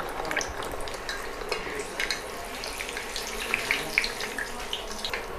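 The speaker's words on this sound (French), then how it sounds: "Là, je viens directement dans mon huile à 180 degrés." Quartered pieces of food dropped into oil heated to 180 degrees for a Halloween recipe, giving a steady close crackling sizzle with scattered sharper pops throughout.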